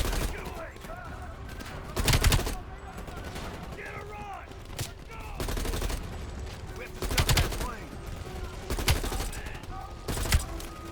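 Bursts of automatic gunfire ring out during a rooftop chase in Call of Duty Black Ops Cold War, several loud volleys spaced a few seconds apart over background game effects.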